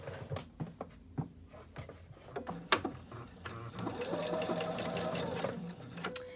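A sewing machine runs a fixed stitch along the edge of a cloth napkin, first in short stop-start bursts with clicks, then a steady whirring run, close and clear.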